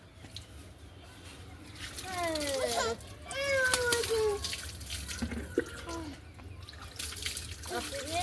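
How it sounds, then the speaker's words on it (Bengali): Water poured over a child during a bath, in splashing pours and trickles close by, while an adult and someone speak. "তাড়াতাড়ি ঢালো গায়ে পানি।"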